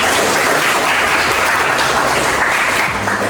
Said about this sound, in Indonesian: jangan sekali tepuk tangan buat teman-teman